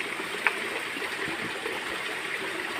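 River water flows steadily past a fish cage holding goldfish, giving a constant close babbling wash with one brief splash near the start and no talking.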